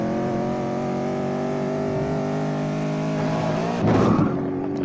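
A car in a video game accelerates onto a highway, its engine a loud steady drone that climbs in pitch, then a sudden rough burst near the end.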